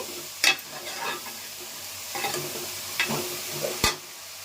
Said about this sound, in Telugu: ఇవన్నీ కలిసిలా బాగా కలుపుకోవాలండి